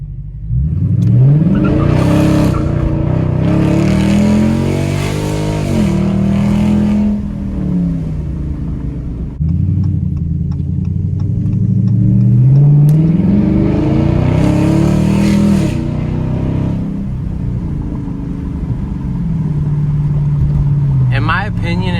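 A car fitted with a Flowmaster Outlaw catback exhaust revs twice in long swelling pulls, a loud, deep, burbly roar rising and falling, settling to a throaty idle between revs, with a voice talking over it.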